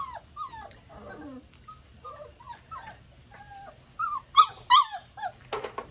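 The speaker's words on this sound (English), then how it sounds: "A lot of yipping, but in a group of puppies like this, it's not uncommon for them to yip and, you know, want to be heard" A litter of puppies yips, whimpers and squeals in overlapping high-pitched bursts, close and fairly loud, with sharper cries near the end and no talking.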